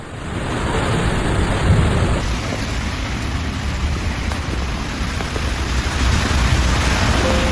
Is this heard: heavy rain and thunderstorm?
yes